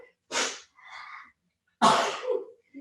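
Two sharp sneezes, each followed by a short breathy sound, come from someone off to the side during a full-body workout class.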